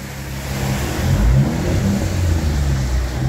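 A high-output V6 car engine revs up from idle at close range, a loud, deep rumble that swells and holds, with no voices over it.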